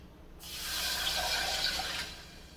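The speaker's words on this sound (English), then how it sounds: "we're gonna put the water in first" Water poured from a container into a pan holding sugar, making a steady close splashing stream that swells for about a second and a half, then tapers off.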